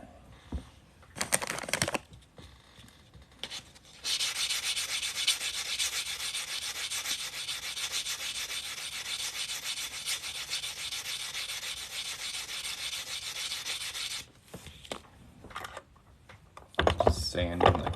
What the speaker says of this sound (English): Just sanding the cut edge real quick.